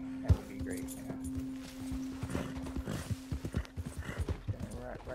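A horse in the Red Dead Redemption 2 video game clip-clops at a ride, with an early whinny and then a quickening run of close, rhythmic hoofbeats.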